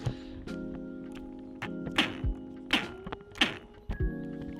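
Mountain bike pedals make heavy hollow knocks and thunks in an uneven run of about eight hits, loud and close, over a low mechanical whir.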